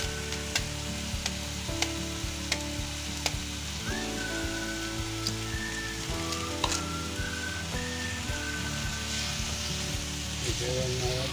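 Pabda fish curry masala with Kashmiri chili fries and is stirred in a pan, a continuous close sizzle with steady tapping and scraping strokes, and quiet voices faintly underneath.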